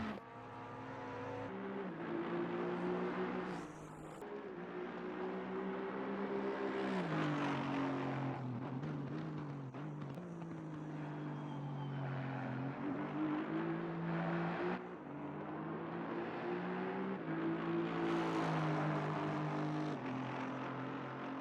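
A purple Aston Martin GT race car in the sim racing game ACC, its engine droning steadily at high revs with rising and falling pitch through gear changes, loud and continuous throughout.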